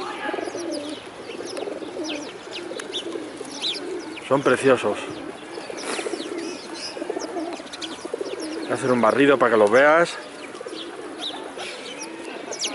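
Pigeons coo among sparrows in Madrid, the soft throaty coos rising twice in short rolling bursts while faint chirps continue and someone speaks Spanish nearby.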